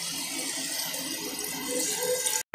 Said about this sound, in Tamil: இப்போ நம்ம வந்து 3 டம்ளர் தண்ணி ஊற்றிக்கலாம்.